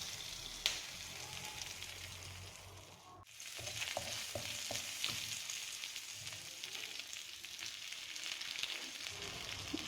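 Crushed garlic, about three cloves, and two green chillies fry in hot oil, a steady close crackling sizzle with scattered pops and a brief stir clatter partway through, no voices.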